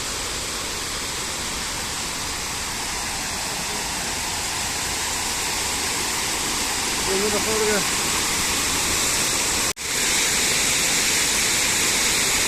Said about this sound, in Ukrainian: Шум води.